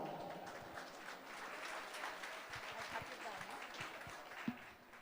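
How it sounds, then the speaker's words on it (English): Audience applause for Sister Audrey at a Divine Providence School event in Belagavi, a steady patter of clapping filling the room at moderate level with a brief louder spike near the end. "Round of applause for Sister Audrey"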